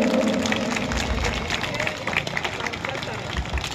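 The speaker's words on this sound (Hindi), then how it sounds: "तालियां बजना चाहिए साथियों।" A crowd claps at a welcome ceremony where a mayor is greeted with a stole and a flower bouquet, producing steady dense applause mixed with crowd murmur and voices throughout.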